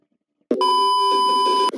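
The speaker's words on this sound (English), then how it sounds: "I'm talking about a chirp. That's called a beeper." A beeper gives one sharp electronic chirp, a clean steady tone lasting just over a second that starts abruptly after silence and sounds loud and close.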